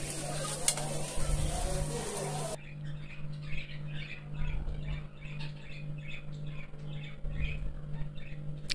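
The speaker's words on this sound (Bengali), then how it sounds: "দিয়ে ভালো করে নেড়ে আমরা কিছুক্ষণ অল্প আঁচে বসিয়ে রাখবো।" Chicken fried rice with vegetables is stirred in a pan over low heat, giving a faint, soft sizzle with rhythmic scraping strokes over a steady low hum.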